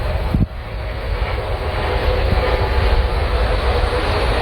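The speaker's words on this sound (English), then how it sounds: "There's these big ass helicopters that keep going past." A loud, steady roar of large helicopters passing overhead fills the whole stretch, a continuous heavy engine rumble with no talking.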